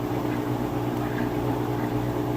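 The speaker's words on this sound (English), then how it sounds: "You see it's got a nice fast spin cycle." A Roper washing machine drum spins fast in its spin cycle with a loud, steady whirring hum and a faint watery churn underneath, continuous throughout.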